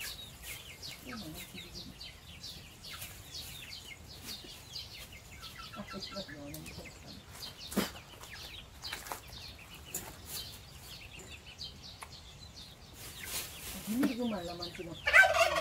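Rare chickens clucking and gobbling in a yard at home, scattered calls near and far, louder toward the end, with occasional faint talk.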